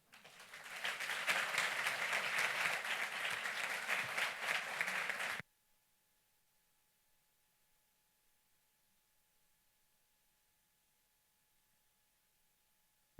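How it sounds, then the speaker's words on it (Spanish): An audience at a lecture on the origin of life claps to welcome the speaker, a dense burst of applause lasting about five seconds, then cutting off abruptly into near silence. "a quien recibimos con un aplauso"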